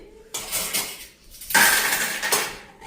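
Dishes and cutlery clattering while chicken egg pasta is served, with close metallic scrapes and clinks of a spoon against plates in a few short bursts.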